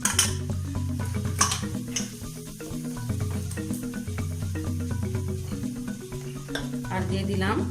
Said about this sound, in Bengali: এবার আমি টক দইটা খুব ভালো করে ফেটিয়ে নিয়ে দিয়ে দিলাম।